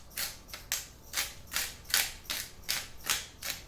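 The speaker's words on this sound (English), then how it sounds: "We've got some fresh ground pepper" Fresh pepper is ground with a hand pepper mill for a pepper steak: eight or so evenly spaced gritty crunching twists in a steady rhythm, close up and moderately loud.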